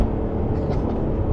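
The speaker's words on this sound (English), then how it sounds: "So listen to these downshifts." Audi saloon fitted with a Lamborghini V10 engine, a dense low engine rumble heard from inside the car, steady and loud with slight surges as the revs shift.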